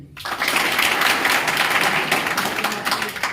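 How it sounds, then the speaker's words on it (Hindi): Audience clapping during a Hindi motivational talk on a disciplined life, a sudden burst of many hands that starts sharply and stays dense and loud, slightly uneven, with no speech over it. "इसे ताली मारी।"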